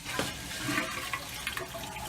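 The toilet in an RV flushes with a quiet gush and swirl of rushing water, the gurgling flow running steadily throughout without any voices.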